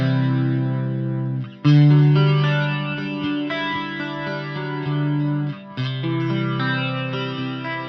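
Electric guitar played through a Line 6 Helix chorus effect set to a slow speed with wide depth, giving sustained chords a gentle, subtle shimmer; two strummed chords ring out loud and close, with no voices.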